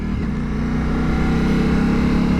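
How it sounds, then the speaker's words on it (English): Ducati motorcycle with an Akrapovic exhaust, running steadily with a deep, throbbing engine note, close and loud throughout. "Love the sound of this exhaust."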